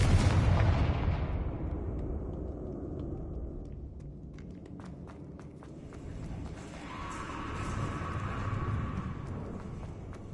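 In Hogwarts Legacy, a Confringo fire-blast spell bursts with a heavy boom, then trails into a long rumbling decay scattered with small crackles and debris, before a low roar swells again later.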